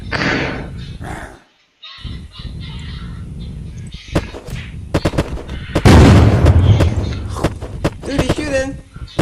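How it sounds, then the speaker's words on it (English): Gunfire in the survival game Unturned: sharp, loud shots crack in scattered bursts, with one dense volley in the middle. Excited voices talk over the shots throughout. "Dude, he's shooting."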